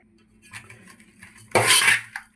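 A utensil clinks and scrapes in a pot while mixing kasuri methi and ground spices for brinjal dum biryani: quiet faint taps, then a loud, brisk burst of stirring and a final clink.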